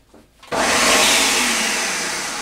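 A blender kicks on abruptly and whirs loudly and steadily on a thick smoothie mix, its motor pitch easing slightly as it runs.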